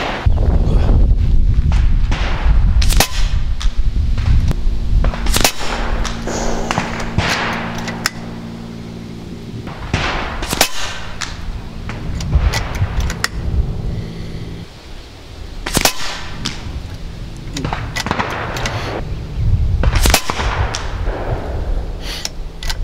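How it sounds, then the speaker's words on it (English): A Vulcan 3 airgun rapidly dumps a full magazine of AVS slugs outdoors, a string of sharp loud cracks with uneven gaps over steady background noise, with no talking. "That was just the mag dump."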